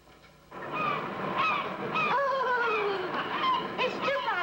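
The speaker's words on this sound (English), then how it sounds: "Fanshawe, you've forgotten to switch on the birds." An artificial bird sound effect switched on: after a brief quiet start, a continuous honking, goose-like fowl call sets in with repeated sliding whoops, close and fairly loud, alone without talk.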